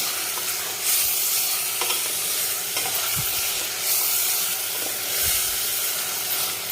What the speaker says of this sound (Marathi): मोठ्याच गॅसवर आपल्याला परतून घ्यायचं चांगलं पाच मिनिट परतून घेऊ आपण याला